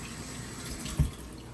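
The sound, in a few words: tap water running while rinsing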